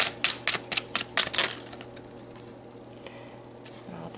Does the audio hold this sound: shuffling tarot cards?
yes